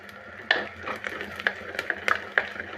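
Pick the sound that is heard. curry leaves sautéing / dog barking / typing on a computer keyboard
curry leaves sautéing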